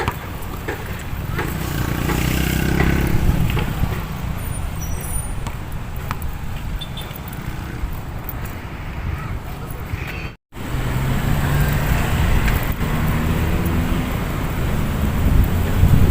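Continuous road traffic with many motorcycles passing nearby along Manila Bay, Philippines, a steady roadside rumble with voices talking over it and a brief dropout midway.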